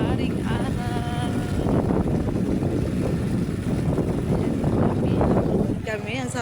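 Steady wind gusts buffet the microphone along the MegaDike embankment at sunrise, a continuous broadband roar with some water-like wash beneath, while a person talks over it.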